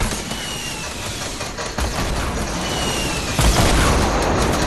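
An RPG rocket detonating in Fortnite on PlayStation 4 gives two loud broadband blasts, one just under two seconds in and a heavier one near three and a half, over a dense, rumbling battle din.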